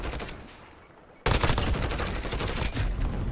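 Rapid automatic fire from a GRAU 5.56 rifle in Modern Warfare bursts in suddenly after a quieter lead-in, a loud, dense string of cracking shots that continues without pause to the end.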